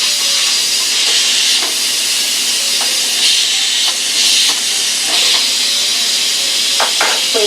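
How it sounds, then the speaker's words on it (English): A pressure cooker cooking oat and mushroom patties lets out a loud, steady hiss of steam that runs unbroken, with faint clicks and rattles underneath. "This lid will not let you open it until this is finished cooking."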